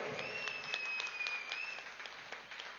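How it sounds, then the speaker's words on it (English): Audience applause at a breath-awareness gathering, a steady wash of many hands clapping throughout, fairly even in level, with a thin tonal whine running across the middle. "Can we have a huge round of applause for Patri ji?"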